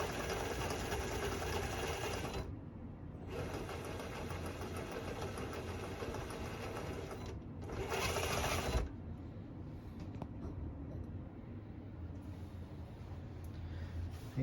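A small TF2 RC truck's electric motor whirs steadily in reverse, a close, buzzy mechanical drone with two brief higher-pitched bursts layered on top.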